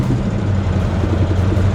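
Steady low engine rumble from a 1963 Plymouth Belvedere with a 426 Max Wedge V8, a restored superstock car, cruising down the road, loud and continuous with no talking.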